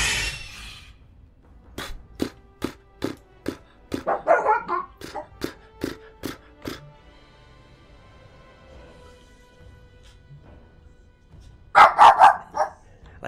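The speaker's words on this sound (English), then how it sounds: "it's okay that my dog is barking" A dog in the video game Dragon Age: Origins - Awakening barks in a run of about a dozen sharp, evenly spaced barks, loud and close, followed after a pause by a final burst of yips.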